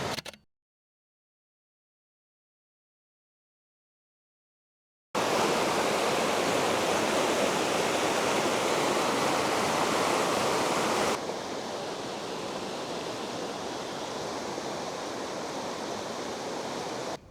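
A stream flowing through Gelt Woods in winter gives a loud, steady rush of water with no talk. It starts abruptly after several seconds of silence, then continues a little softer and duller.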